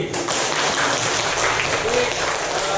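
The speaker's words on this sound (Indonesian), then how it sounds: "Tepuk tangan untuk Windy." Sustained clapping from a classroom full of people, even and continuous, with some voices mixed in underneath.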